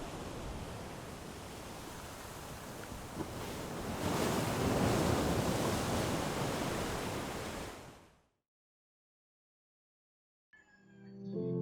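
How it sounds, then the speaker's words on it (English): Surf crashes against lava sea cliffs in Puna, Hawaii, a loud, wind-buffeted roar that surges to a peak midway, then fades into silence before another sound briefly begins. "the raw power of the waves crashing against the sea cliffs"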